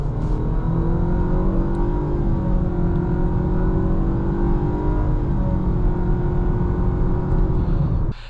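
A 2026 Nissan Sentra SR with a naturally aspirated four-cylinder engine and CVT transmission, heard from inside as a steady, loud engine drone with road noise while driving, holding an even tone throughout.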